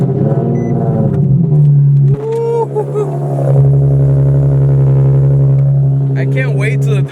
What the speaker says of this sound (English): ooh, cold start.